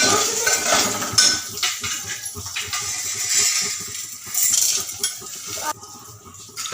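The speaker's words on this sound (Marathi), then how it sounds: "त्याच्यानंतर त्याच्यात टाकून घेतले हे पॉपकॉर्न मी याला घेतलं परतवून" Popcorn is stirred and tossed in a pan on a home stove. A spoon scrapes and clatters against the pan in steady, busy strokes, with a soft rustle throughout and no talking.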